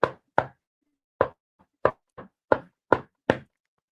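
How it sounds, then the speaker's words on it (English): Knocking on a wooden surface: eight sharp, separate raps in an uneven rhythm, each hit clean and close, with silence in between and no voices. "Knock on wood."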